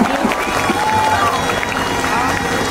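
Persib football supporters, the Boboto, fill the space with a loud, continuous crowd roar and clapping, steady throughout with voices mixed into the din.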